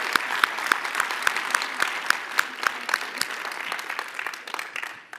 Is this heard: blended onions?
no